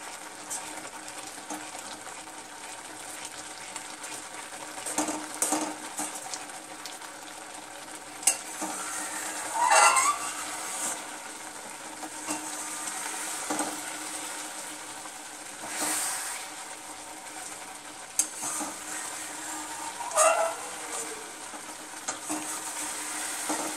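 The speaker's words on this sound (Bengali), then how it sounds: "এইভাবে কিন্তু কন্টিনিউয়াস আপনারা নাড়তে থাকবেন, যত নাড়বেন তত কিন্তু এই টেস্টটা বাড়বে আর তলায় লেগেও যাবে না।" Carrot halwa cooking in milk in a pan, stirred continuously: a low bubbling simmer runs under scattered scrapes and knocks of the spoon against the pan, with a few louder strokes.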